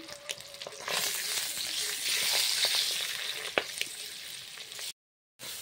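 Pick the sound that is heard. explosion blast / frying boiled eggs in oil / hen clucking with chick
frying boiled eggs in oil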